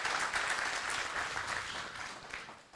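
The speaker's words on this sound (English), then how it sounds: "So she deserves a round of applause." A symposium audience at Crop Life Uganda's inaugural event breaks into a dense, even round of applause, heard alone and tapering slightly toward the end.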